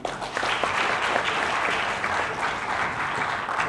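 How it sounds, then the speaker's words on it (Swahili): Audience at a Tanzanian public launch event applauding, a dense sustained round of clapping from a crowd, steady and fairly loud for several seconds with no speech over it. "naomba tuwapigie makofi mengi sana"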